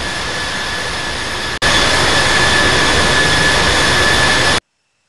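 Boeing 747-8 jet engines roaring on a takeoff roll in the Infinite Flight simulator, a loud steady broadband roar with a brief dip before surging louder, then cutting off abruptly.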